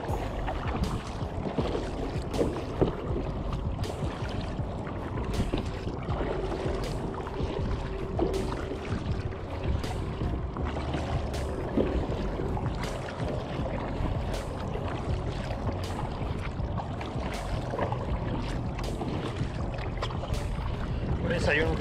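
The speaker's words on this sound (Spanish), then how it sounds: "hay un poquito de olas hoy" Small waves lap against a fishing kayak out on open water, a continuous close splashing and sloshing with wind buffeting the microphone and a voice talking now and then.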